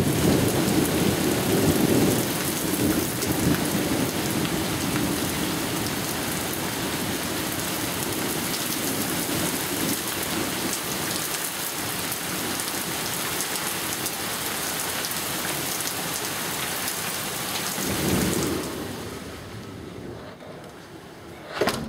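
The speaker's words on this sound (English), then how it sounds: "Here comes the rain." A severe spring thunderstorm near Edwardsville, Illinois, brings heavy rain drumming on surfaces alongside deep rolling thunder, loud and continuous with a swelling rumble late before the downpour briefly quiets.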